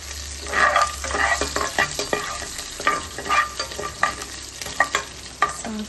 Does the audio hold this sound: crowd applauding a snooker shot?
no